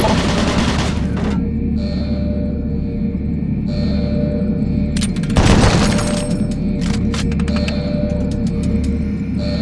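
Automated turret guns fire in Doom 3 as loud, sharp bursts of gunfire over a steady mechanical hum, with a heavier boom near the middle and rapid clustered shots toward the end.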